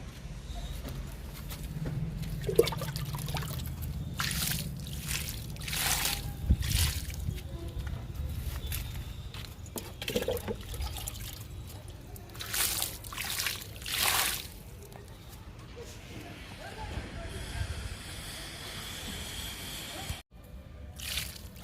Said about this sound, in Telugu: మునగ మొక్కలకి వాటర్ ఇచ్చేద్దాం